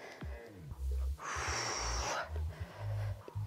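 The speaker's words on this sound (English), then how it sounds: "Notice I'm breathing." Heavy breathing during a no-equipment ab exercise, with rhythmic exhales and gasps close to the mic and a loud breathy burst in the middle, over a faint low background.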